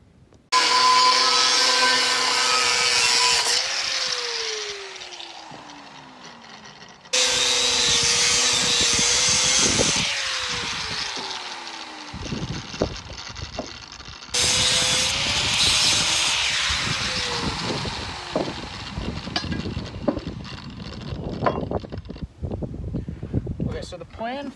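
Steel pieces for trailer tail light and marker light boxes are cut with a power saw in three long, loud passes, each whine dropping in pitch as the blade bites, with clattering and handling noises between cuts.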